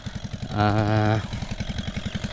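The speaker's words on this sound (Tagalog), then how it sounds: "umaandar na yung makina natin" A small engine chugs in a fast, steady rhythm close by, briefly joined by a buzzing revving tone.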